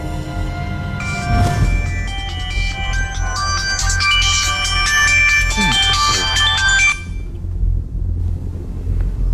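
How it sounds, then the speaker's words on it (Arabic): A phone rings with a bright melodic ringtone for about seven seconds over a steady low rumble, then cuts off, leaving the background hum. "لحداش و15 دقيقة تليفون سامي نقص."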